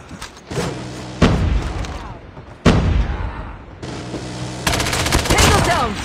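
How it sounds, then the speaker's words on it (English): Gunfire in a zombie-themed video game, including a deployed sentry gun, comes as repeated bursts of rapid shots and booms, loud and close, with a dense fusillade toward the end. "Friendly sentry gun deployed."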